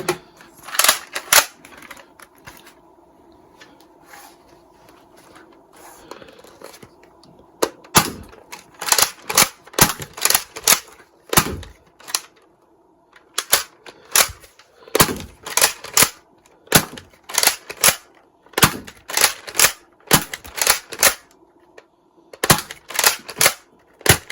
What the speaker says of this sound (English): Alright, let's do a firing test.